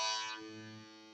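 A guitar plays part of a song: a held, sustained chord rings close and fairly quiet, fading slowly over about a second with no voices.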